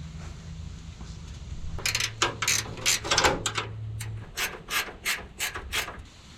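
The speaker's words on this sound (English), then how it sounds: "Once you get that tight on the other side, you can push and then tighten the sliding brackets." Close metallic scraping and rasping as sliding condenser brackets are tightened on a Suzuki Carry, a series of short irregular strokes like a ratchet turning, with a low hum underneath for the first few seconds.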